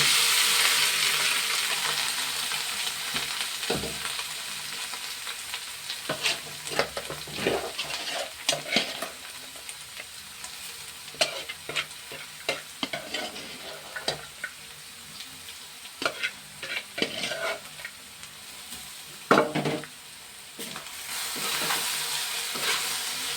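Food frying in a pan is stirred with a utensil, producing a steady sizzle under repeated scraping and knocking strokes against the pan, loud and close, with no talking.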